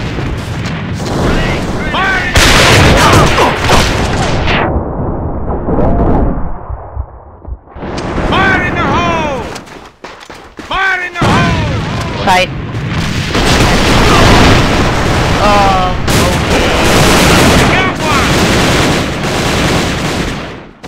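Grenade blasts and gunfire in the online shooter AVA (Alliance of Valiant Arms), with loud booms and bursts of shots recurring through the match, mixed with in-game effects and players talking over them.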